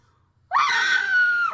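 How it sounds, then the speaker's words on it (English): A single high-pitched woman's scream erupts after a brief silence and holds loud and sustained for about a second before cutting off abruptly. "You hear another high-pitched woman scream."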